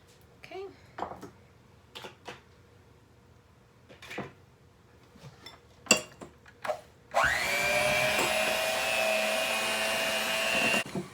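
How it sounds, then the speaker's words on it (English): An electric mixer whirs steadily and loudly for several seconds while beating pumpkin apple muffin batter in a kitchen, after scattered quiet clinks and knocks of preparation. "I just went ahead and took some help from my mixer today"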